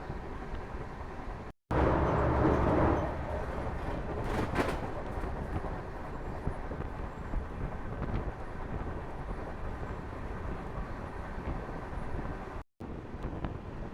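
Indian Railways 22412 Arunachal Express moving at over 100 km/h, giving a steady loud rumble of running wheels with rushing wind noise throughout and two brief dropouts.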